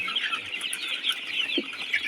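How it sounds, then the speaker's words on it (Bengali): Sonali chickens and roosters on a poultry farm, a flock clucking and murmuring in a steady, overlapping chorus at moderate distance, with one brief low thump partway through. "এইটা একটা মুরগি"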